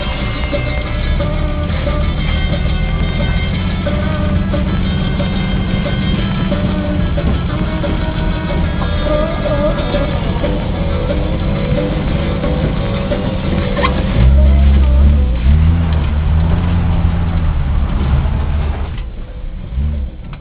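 A 1964 Ford Falcon, rear-wheel drive, rolls around a parking lot with a steady mid-pitched engine drone, swelling briefly with a throttle blip before easing off toward the end.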